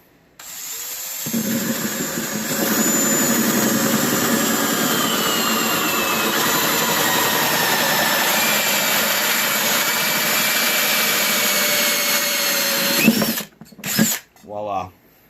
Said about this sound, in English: If you use one of the hole saws that have a drill in the center, you wouldn't have to do that.